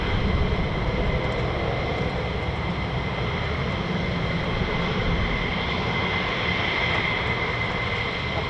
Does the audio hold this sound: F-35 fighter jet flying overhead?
yes